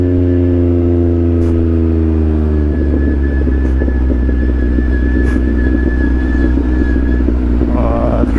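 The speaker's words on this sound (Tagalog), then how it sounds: "Traffic." Steady road traffic on a downhill road in Catalunan Grande, with cars and motorcycles rumbling and revving. Engine drone stays continuous and close, with a rising engine note near the end.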